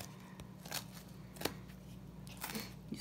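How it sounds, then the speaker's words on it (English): Knife or scissors cutting through a small bunch of fresh parsley, a few soft crisp snips and crunches close by over a low steady hum, for a salad prepared in a kitchen. "this is a small bunch of parsley. I don't think I need all of it. I'm gonna cut it again."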